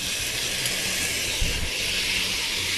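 Tomato dropped into a hot, old cooking pan while making sausage pasta, a steady loud sizzling hiss throughout with a brief low thump midway.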